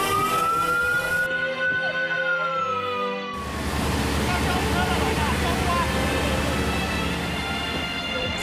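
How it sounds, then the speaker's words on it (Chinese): A fire engine siren wails in a long rising and falling tone at the scene of an apartment fire, then cuts to a louder, busier scene with engine noise and voices. "消防车响亮的警报声打破早起的宁静。"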